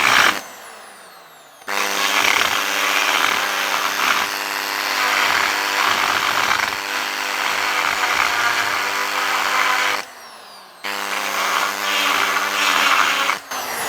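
A cutter grinds loudly and steadily through a turbo boost pipe, the tool's whine holding in long continuous stretches that briefly drop away and then resume, close up with no speech.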